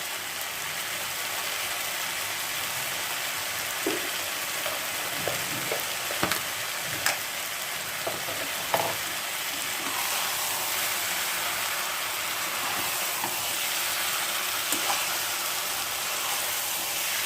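Cauliflower fries with garam masala and roasted spice powder in a pan, still giving off water; a continuous close sizzle runs throughout, broken by a few sharp stirring knocks and scrapes, with no talk.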